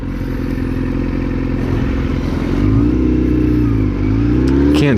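An old Ford Fairlane's engine revs loud and close, a rough, clattering drone that rises and falls in pitch, surging near the end with a sharp climb.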